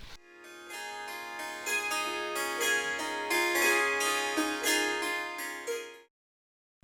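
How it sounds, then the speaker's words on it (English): Harp notes played in a quick, continuous run, plucked tones ringing over one another at moderate volume for about six seconds before stopping, with no voices. "A harp sounds like this."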